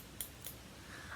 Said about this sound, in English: So I'm very happy to have scored a set of nice big scissors.